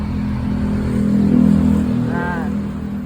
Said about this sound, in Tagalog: Traffic dito mga bossing, ayan oh.